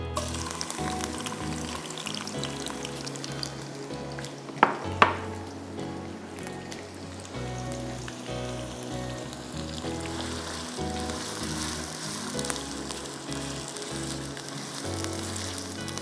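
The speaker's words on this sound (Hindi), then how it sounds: "तेल गरम करके इसमें हमें प्याज लाइट गोल्डन फ्राई करनी है" Onions frying in hot oil in a home kitchen pan, a steady low sizzle with scattered crackle and two sharp clinks midway, no voices.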